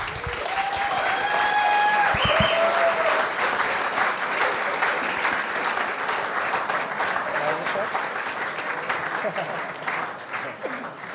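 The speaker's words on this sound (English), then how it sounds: "Give them a very big applause. Jan Beckers and Benjamin Thym." A talk show audience at a Berlin startup event applauds two guests with a big, sustained round of clapping that starts strong and slowly tapers off, with a voice briefly heard early on.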